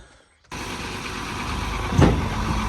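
Engine of a machine with a huge loader bucket starts up and runs steadily nearby, a broad rumbling drone that swells slightly, with a brief clunk partway through.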